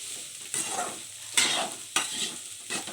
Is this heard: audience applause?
no